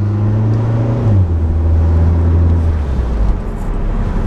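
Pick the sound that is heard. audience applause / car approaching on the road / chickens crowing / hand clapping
car approaching on the road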